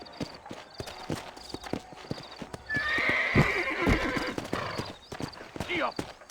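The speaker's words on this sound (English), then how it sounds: "let's mount up and hit the trail" Horses in the Red Dead Redemption video game trot out on a trail from town, steady clip-clop hoofbeats with a loud neigh partway through, over ambient game sound.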